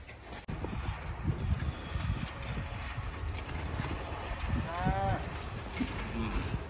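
Cows on a snowy farm moo at a distance, with a low drawn-out call near the end over a rough background of movement, clatter and wind.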